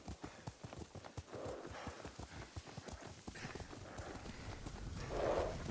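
A horse trots under its rider in the samurai game Ghost of Tsushima, with steady, close clip-clopping hooves and a brief whinny near the end.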